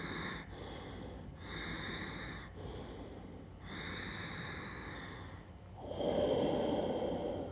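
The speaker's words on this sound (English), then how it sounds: "Deep breaths in, out. Continue in inhale and exhale." Deep breathing during Ashtanga yoga practice, long nasal inhales and exhales in a slow, even rhythm, close and soft, ending in a stronger, rougher breath.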